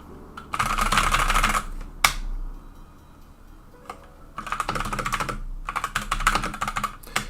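Close-up typing on a computer keyboard comes in rapid clattering bursts, separated by brief pauses.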